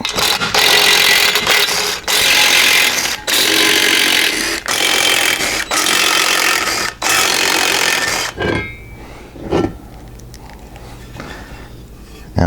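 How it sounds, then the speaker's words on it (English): A power tool loosens the six bolts under a seat in a Jeep Wrangler, loud repeated bursts of buzzing impact whirring, each a second or so with brief gaps, then quieter knocks and handling noises. "we need to remove these 6 bolts from the bottom of the seat"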